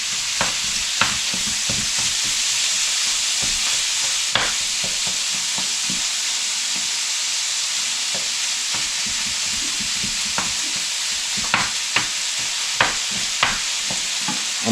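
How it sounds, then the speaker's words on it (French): Moose meat frying in a pan for homemade cretons, a steady loud sizzle and hiss throughout with occasional stirring clicks and scrapes of the utensil. "On va faire cuire la viande d'orignal"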